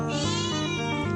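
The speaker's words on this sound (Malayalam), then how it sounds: "സ്നേഹത്തോടുള്ള വിളി കേട്ടതൊന്നും ഞങ്ങളെയാണ്, പക്ഷെ അല്ല, ഉമ്മാന്റെ സ്വന്തം പൂച്ചക്കുട്ടിയാണ്." A kitten at home gives a single drawn-out meow, close and clear with nothing else audible.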